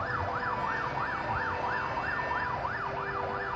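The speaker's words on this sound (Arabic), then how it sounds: "بصوا عربيات الاسعاف والبوليس" Ambulance and police car sirens wail continuously, rising and falling in a steady loud cycle over a low traffic rumble, with no talking.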